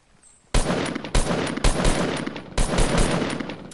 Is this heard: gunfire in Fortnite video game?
yes